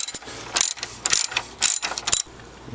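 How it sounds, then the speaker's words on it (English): A 10mm socket ratchet loosening starter bolts on a 2003 Acura MDX: quick bursts of close, sharp ratcheting clicks in several short strokes, with brief pauses between them. "using a 10mm socket,"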